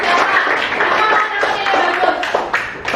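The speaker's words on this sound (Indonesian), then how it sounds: "Bagus, tepuk tangan." Children clapping in a classroom, a fairly close, lively patter of hands with loose rhythm and bright sharp claps, mixed with voices and chatter throughout.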